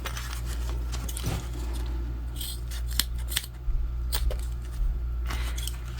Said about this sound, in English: We'll obviously cut off our excess zip tape.